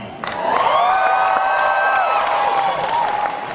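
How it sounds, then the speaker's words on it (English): A large convention-panel crowd at Comic Con cheers, whoops and applauds loudly for a sustained stretch, with high shrill shouts riding over the roar, close and full. "I got a sense that the crowd was excited to see Chuck and Sarah kissing a little bit, right?"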